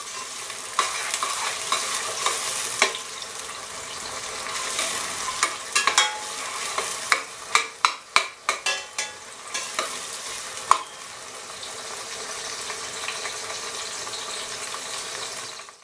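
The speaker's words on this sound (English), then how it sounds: "And then you got to brown the onions." Chopped onions and green chilies fry and brown in a pan, a steady sizzle under repeated scraping strokes of a stirring utensil, with a few sharper clicks midway and a calmer hiss toward the end.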